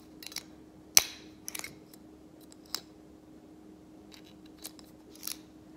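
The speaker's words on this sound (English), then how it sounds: "Take the magnet, slide it over here. You can kind of hear it click." A magnet slides over a clothing store security tag and sets off sharp, scattered clicks and snaps, one loud click near the start and several fainter ones after, close up over a quiet background hum.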